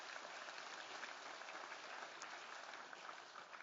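An audience at a memorial lecture applauds the donors with steady, full clapping that fills the room evenly from start to finish.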